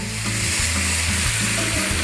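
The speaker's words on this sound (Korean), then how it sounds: "화이트 와인 좀 부어주고요." Mussels sizzle loudly in a pan of olive oil and browned garlic just after white wine is poured in, a steady, close, dense hiss with no talking.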